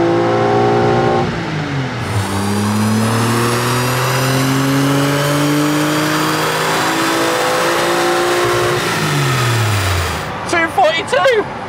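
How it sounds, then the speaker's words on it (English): A Renault Clio V6 on a dyno revs at full throttle to the redline, its engine note rising in pitch loud and close over several seconds, then dropping as it winds down, with people talking briefly at the end. "And now I'm full throttle, all the way to the red line."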